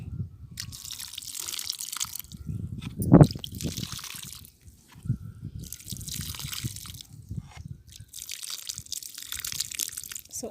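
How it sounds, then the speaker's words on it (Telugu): Water splashes and drips in bursts near at hand as potted jasmine cuttings are watered, pausing between pours, with one sharper splash early on; no one speaks. "సో వీటికి వాటర్ అనేది ఇచ్చేద్దాము"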